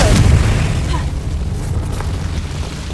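A Confringo fire spell bursts in Hogwarts Legacy, a loud close explosion with a heavy low boom that rolls into a fading rumble, alone with no talk.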